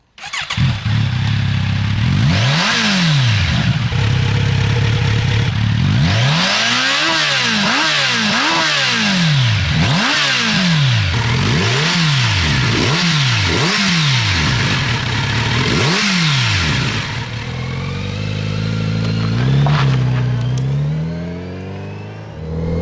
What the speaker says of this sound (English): Let's see what that 4-cylinder silky smooth motor sounds like.